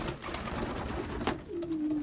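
Young pigeons coo in a loft, a soft low murmuring coo near the end over a rustling, noisy background.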